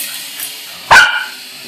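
A single sharp bark from a dog reacting to a landing helicopter, loud and close, set against a steady low background hum.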